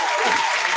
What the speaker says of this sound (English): Oh, okay, clap it up for myself.